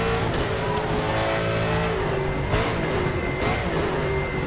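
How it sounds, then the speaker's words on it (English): Big Ford Mustang V8 in the sim racing game RaceRoom Racing Experience roars loudly and steadily, its pitch rising and dipping through gear changes for several seconds. "Big V8 under the bonnet."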